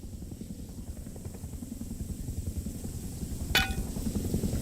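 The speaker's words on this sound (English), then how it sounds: "Here's the helicopter." Continuous rapid rotor chop of a helicopter in the video game Rust, steady and moderately loud, with a single sharp metallic clink near the end.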